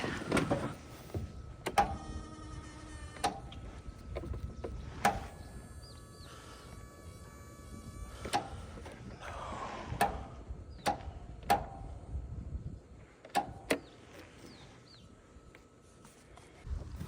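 A failing lawn mower motor with a bad, smoking solenoid clicks sharply and repeatedly as cranking is attempted, the clicks spaced a second or two apart over a steady background hum, with no engine catching.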